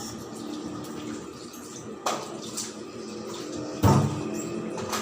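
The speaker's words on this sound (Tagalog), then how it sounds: "Matapos kumain, kailangan maghugas ng plato." Dishes washed in a kitchen sink after a meal: a steady stream of running tap water with a couple of sudden splashes or clatters of plates, close by and alone.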